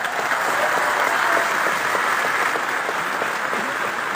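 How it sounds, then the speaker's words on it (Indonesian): An audience at a political party speech breaks into sustained, loud applause, a dense even roar of clapping that holds steady for several seconds without voices standing out. "saya ingin minta tepuk tangan yang paling meriah kepada dua ketua umum kita"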